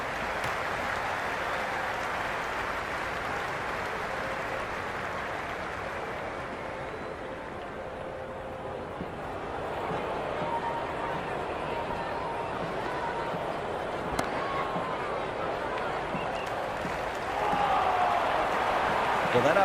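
A stadium crowd in the Cricket 26 video game, during an India versus South Africa one-day international, roars in a steady sustained wash of cheering throughout, swelling slightly near the end, with commentary voices talking over it.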